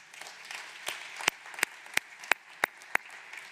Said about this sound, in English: I would like to invite you to give our panelists and yourselves a round of applause